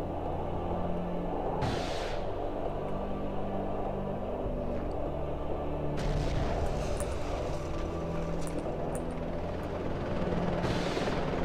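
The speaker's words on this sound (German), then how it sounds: "Helikopter." Helicopter in the video game Cold Winter, a steady rotor rumble running under loud game noise with bursts of gunfire and explosions, no talk.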